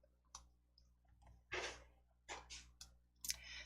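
Computer mouse clicks while building a PowerPoint slide, several crisp clicks spaced unevenly over a quiet background, close and fairly clear, with no talking.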